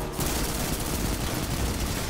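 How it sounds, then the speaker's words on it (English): Harpies in Destiny 2 fire a dense, continuous barrage of rapid shots at close range, loud and unbroken for the whole stretch, with no talk over it. "Damn harpies are shooting me in the back."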